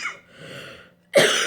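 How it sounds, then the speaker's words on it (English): One short, sharp cough bursts out near the microphone after a soft breath and faint throat sounds, loud and sudden against a quiet room. "I'll be so happy when this cough is gone."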